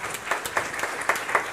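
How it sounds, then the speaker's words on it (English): Audience round of applause welcoming author Keidi Keating at a book event, a short burst of dense, even clapping with a few sharper claps standing out, no talk over it. "Let's give a big round of applause to Miss Keidi"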